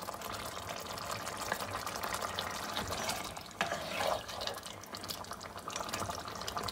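Mutton sizzles steadily in ghee in a karahi, a soft continuous frying hiss and crackle with faint stirring scrapes, close and even throughout with no talking.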